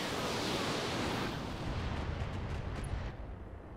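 Weapons fire from battling mechs in the BattleTech-based video game Roguetech, a loud roaring blast that washes over everything and slowly fades over a few seconds, with no voices.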